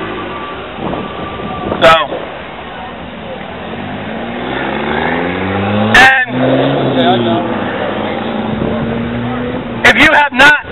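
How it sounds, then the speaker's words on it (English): A loud car with a rumbling muffler drives past on a Daytona Beach street, a steady low engine drone with shifting tones that swells and fades over several seconds, under someone speaking outdoors. "There's a muffler that's louder than I am."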